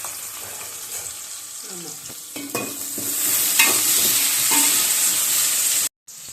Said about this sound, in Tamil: இப்ப வணக்கிட்டு இதை பொன்னிறமா வதக்கணும்